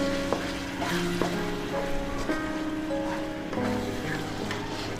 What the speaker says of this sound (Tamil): தக்காளி நல்லா பச்சை வாசனை போகிற அளவுக்கு வணங்கணும்.